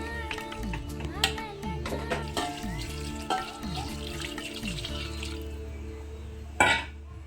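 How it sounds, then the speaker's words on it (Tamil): Water poured into a pot of browned mutton for biryani, a running splash and gurgle with clattering knocks, ending in a sharp burst of sound near the close. "நம்ம ஒரு 800 ml வாட்டர் ஆட் பண்ணிக்கலாம்."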